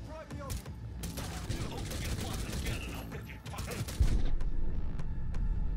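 Rapid bursts of gunfire in the video game Cyberpunk 2077 crack through a dense, busy mix, with a sharper, louder shot near the end and faint talk underneath.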